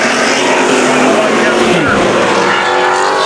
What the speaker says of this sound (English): that car did not like sliding through the dirt like that